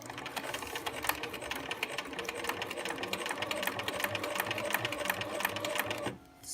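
A sewing machine runs steadily for about six seconds, stitching along the edge of quilt pieces for a pieced quilt top, with rapid even needle clatter that stops abruptly near the end.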